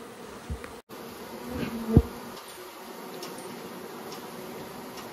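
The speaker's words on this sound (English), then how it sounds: "so you can see bees just walking out that tube" Honey bees walking out of a tube from a hot room buzz faintly, a thin insect hum with a few brief clicks and taps nearby.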